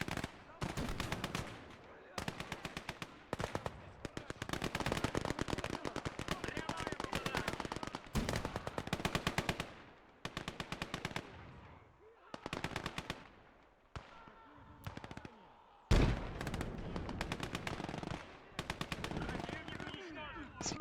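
Machine gun fire in the war video game Gates of Hell comes as long rapid bursts of sharp gunshots, repeated many times with short pauses between, plus occasional heavier blasts in a busy battle.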